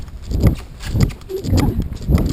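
A horse cantering in the left lead, bitless, with rhythmic three-beat hoofbeats thudding close by in a steady repeating pattern.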